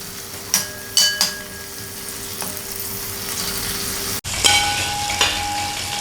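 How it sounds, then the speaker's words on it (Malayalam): Green chillies, ginger and garlic sizzle in a pan, a close, continuous frying hiss broken by a few sharp metallic clinks of a spoon against the pan. "ഇതിൻ്റെ കൂടത്തോട്ട് തന്നെ നമുക്ക് ഇഞ്ചിയും വെളുത്തുള്ളിയും കൂടി ഇട്ട് അതും കൂടി ഒന്ന് മൂപ്പിച്ചിട്ട്"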